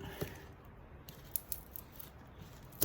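Copper windings are cut from a transformer with snips in a few sharp, sparse clicks and snaps over a quiet background, close by and with no talk.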